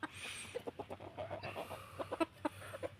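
Chickens cluck nearby in short, uneven bursts, a run of clipped notes against a quiet outdoor background.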